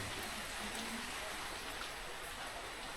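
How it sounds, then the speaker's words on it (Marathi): Steady rain falls outside on an evening after raining since afternoon, a faint, even hiss of drops on surfaces that continues without a break. "दुपारपासून पाऊस पडतो कंटिन्यू"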